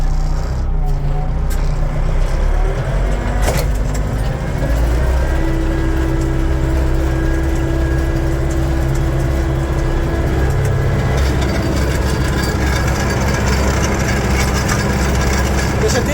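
A DT-3 504 tractor ploughs a field after soybeans, its heavy diesel engine droning steadily and loudly up close for the whole stretch, with a low rumble and a sustained mid-pitched tone.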